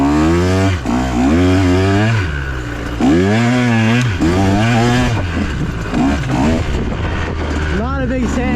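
A dirt bike engine revs hard again and again, its pitch sweeping up and dropping back in loud, close bursts with brief dips between throttle blips.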